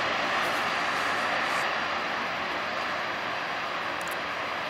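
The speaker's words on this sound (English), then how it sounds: "This is my first ever Antonov 12 takeoff." An Antonov An-12 turboprop cargo plane takes off at Toledo, Ohio, its engines producing a loud, steady, broadband roar that fills the whole span without pause.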